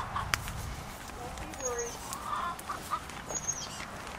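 Soft, scattered clucking from a few chickens nearby, with low rustling and background noise throughout.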